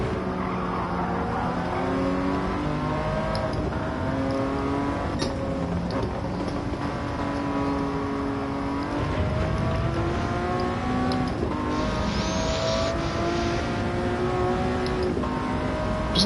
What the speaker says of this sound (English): Doesn't make that much noise for a supercar.